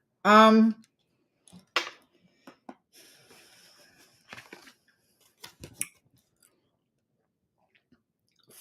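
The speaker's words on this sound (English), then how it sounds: "It's going to be ASMR because I'm drinking while I'm replenishing while I'm doing this." Someone drinks a beverage up close, with a few quiet sips and swallows spaced across the quiet stretch after a short vocal sound at the start.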